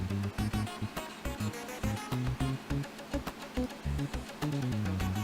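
Buzzing bees in the ToeJam & Earl video game, a steady insect-like drone mixed in with pulsing, rhythmic game music throughout.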